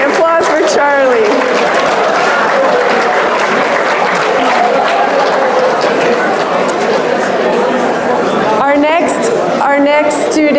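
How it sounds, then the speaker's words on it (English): An audience at a school information session applauds steadily and loudly throughout, with chatter and voices mixed into the clapping. "All right, applause for Charlie"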